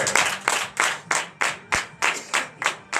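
A congregation at a morning healing prayer service in Benin claps in rhythm, about ten sharp, evenly spaced bursts of hand claps, close and fairly loud with no talk over them.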